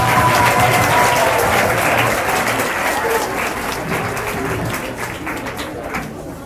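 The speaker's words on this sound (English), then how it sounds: "a round of applause for Mrs. Smith for her class" Applause for a class at a school graduation ceremony, a steady crowd clapping that holds loud and slowly fades over several seconds, with faint voices mixed in.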